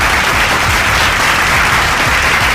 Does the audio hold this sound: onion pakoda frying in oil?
no